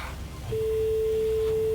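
A steady electronic telephone ringing tone from an outgoing call during a live broadcast comes in partway through and holds at a constant pitch over quiet background hiss.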